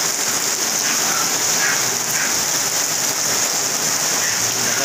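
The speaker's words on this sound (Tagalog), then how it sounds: "Lakas ng ulan dito sa amin" Heavy rain pours down in a dense, steady hiss, drumming hard on surfaces close by with no break.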